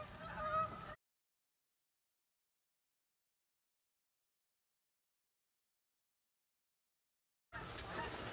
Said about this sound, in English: We're gonna get some of these geese right here.